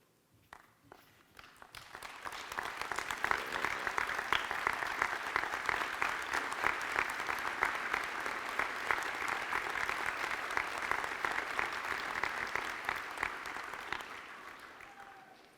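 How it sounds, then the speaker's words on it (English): Audience applause at an AGD convocation ceremony, starting softly and swelling within a couple of seconds into steady, dense clapping from a large standing crowd that holds for over ten seconds before tapering off near the end. "I invite them all to stand up now so that our awardees can acknowledge and applaud their effort"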